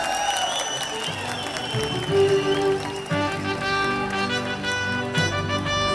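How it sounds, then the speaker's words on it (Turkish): Wedding guests clap together at a large celebration in Mannheim, a steady wash of applause heard over tonal music and hall reverberation, continuing throughout without a break. "Alkışları görelim hep birlikte."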